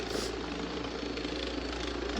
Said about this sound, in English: my neighbor has his tractor out, so it's kind of loud and noisy